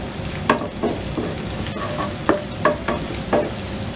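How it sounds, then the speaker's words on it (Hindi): Chopped garlic sizzling as it fries to light brown in hot oil in a home kitchen pan, with a steady crackle and several sharper stirring scrapes at irregular intervals, close and fairly loud, no talking. "ऑयल गर्म हो गया। गार्लिक ये छोटा छोटा काट लिया था, इसको डाल लेंगे। इसको लाइट ब्राउन कर लेंगे।"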